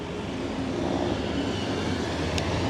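A Los Angeles public transit train rolls along in a steady, loud rumble heard from aboard, continuous wheel and motor noise with a brief high squeal near the end and no talking.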